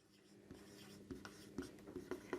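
Chalk or marker writing on a classroom board during a maths lesson, quiet tapping and short strokes that come faster toward the end, close and soft.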